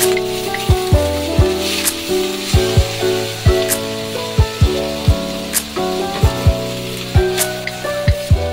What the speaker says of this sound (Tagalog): At saka ilagay ang pichay. Haluin ito hanggang maging half cook.